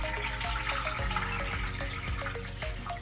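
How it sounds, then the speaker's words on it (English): Rice water pours into a spray bottle in a brief, continuous splashing trickle. Rapid gurgles and drips sound close and steady with no talk. "strain the water out and then pour it inside my spray bottle"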